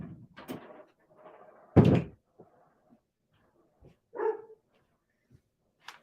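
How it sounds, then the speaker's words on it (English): Dogs bark a few times in short, scattered bursts at a moderate distance indoors, mixed with a door closing, and long quiet gaps fall between the sounds. "Dogs are barking."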